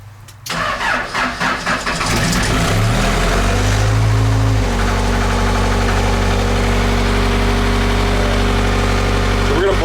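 Case 588 engine cranks and catches, then settles into a steady, loud idle with a brief rise in revs before holding a constant rumble; no talk over it.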